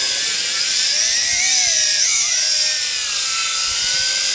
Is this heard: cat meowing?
no